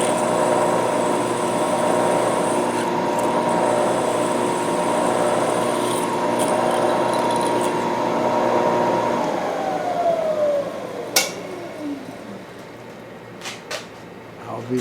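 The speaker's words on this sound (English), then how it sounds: "now we'll just go ahead and drill it out" A power drill bores out a center-drilled hole in a metal part for a ceiling camera mount, a steady whine that winds down, followed by a few sharp knocks and clicks.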